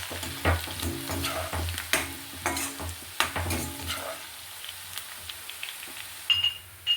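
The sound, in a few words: crushed garlic and spices frying in oil for pickle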